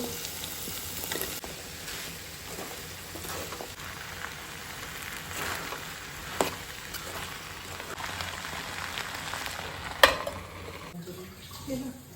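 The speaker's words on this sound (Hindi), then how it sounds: "चलो इसमें डालते हैं हमारे उबले हुए छोले" Boiled chickpeas drop into a hot pan with a steady sizzle and hiss of frying, a few sharper clatters rising above the continuous crackle.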